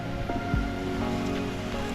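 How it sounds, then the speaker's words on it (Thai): Steady rain falls outside a shop with outdoor play areas, a continuous even patter that stays at the same level throughout with no voices. "ตอนนี้นะครับฝนตก"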